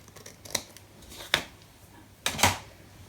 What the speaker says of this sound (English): So I'm just going to trim that off so you can't see it.